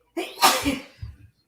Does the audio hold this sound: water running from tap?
no